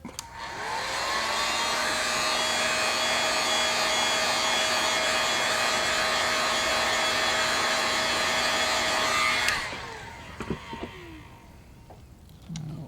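Hair dryer blowing a steady loud whine to heat-set airbrushed paint for a perch scale pattern, running about nine seconds before switching off, followed by handling clicks.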